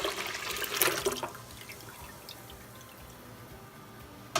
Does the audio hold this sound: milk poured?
yes